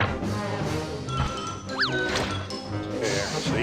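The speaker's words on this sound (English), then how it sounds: "Let me show you what it looks like when you break the dice." Dice smash and break apart in Banjo-Kazooie: Nuts & Bolts, loud crashing and cracking hits with a bright rising chime, set against busy, continuous game music.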